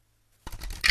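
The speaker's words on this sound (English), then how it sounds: "these cards are just fun shuffling" Tarot cards being shuffled, a brief close run of crisp papery riffling and flicks in a quiet room.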